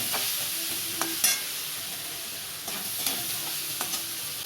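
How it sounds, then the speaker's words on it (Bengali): Potatoes and bitter gourd frying together in a pan, giving a loud continuous sizzle with a few sharp spatula taps and scrapes scattered through it. "আলু উচ্ছে একসঙ্গে একটু ভেজে নেব।"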